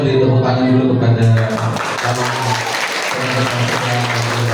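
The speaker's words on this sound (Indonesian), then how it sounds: "beri tepuk tangan dulu kepada" Audience at a school student council candidates' event applauds with dense, sustained clapping, steady and fairly loud throughout the clip.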